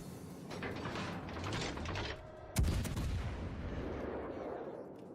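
Naval shells fire from a ship's guns in Azur Lane, a sharp, close report cracking out midway through a steady mechanical whir and clatter of turret machinery, the whir continuing afterward.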